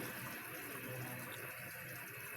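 Water boils in a pot for chickpea pulao, a quiet, even bubbling and hissing that runs steadily throughout without a break.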